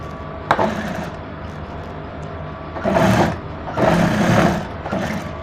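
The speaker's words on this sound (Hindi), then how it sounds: "इसके ऊपर भी एक सिलाई और लगा लेंगे तो मार्जिन एक तरफ हो जाएगा" An electric sewing machine stitches the lining seam of a blouse, a close mechanical whir in two short runs with a few quiet clicks and handling sounds between.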